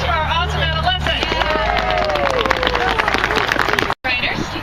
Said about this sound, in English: applause for our awesome adolescents